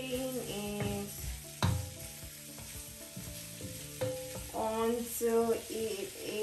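Ingredients for Nigerian okra soup sauté in a pot, giving a low sizzle with irregular stirring scrapes and clanks of a spoon against the pot, close and moderately quiet, with faint voices in the background.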